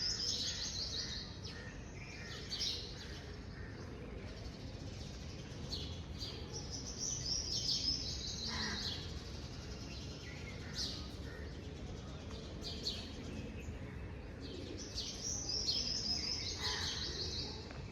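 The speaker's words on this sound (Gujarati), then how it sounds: "પક્ષીઓ પણ બહુ મસ્ત બોલી રહ્યા છે સરસ અવાજ આવી રહ્યો છે" Birds chirp and sing faintly in the distance, with several short bursts of tweeting scattered over a low, steady outdoor background.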